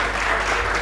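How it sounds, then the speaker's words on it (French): Brief stretch of steady, washy audience applause for a gospel group at a live show, even and sustained without distinct individual claps. "est-ce qu'on peut applaudir une fois de plus fort pour ce groupe"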